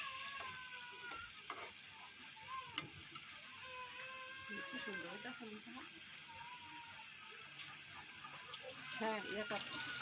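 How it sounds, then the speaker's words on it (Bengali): Fish is sautéed in hot oil in a pan for a Bengali fish curry with bilimbi, making a faint, continuous sizzle with occasional scraping, heard quietly under a person talking. "তারপর মাছ দিয়ে দিব, মাছ দিয়ে আরেকটু ভালোভাবে কষিয়ে নিব।"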